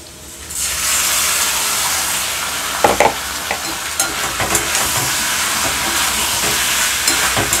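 Paneer goes into a hot pan of spice paste for a no-onion, no-garlic sesame paneer dish, setting off a sudden loud hissing sizzle that continues steadily with intermittent stirring scrapes and pops.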